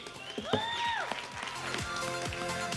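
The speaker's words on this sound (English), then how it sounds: "Let's have a loud clap for the Khajiit." A crowd at a comic con cosplay masquerade claps for a Khajiit cosplayer in foam and faux fur, with sustained applause and rising, swooping whistles or cheers over it, fairly close and lively.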